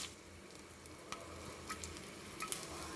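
Tamarind and garlic fry in hot oil in a pan, a quiet steady sizzle with soft stirring scrapes and a few light taps, faint and close with no voices.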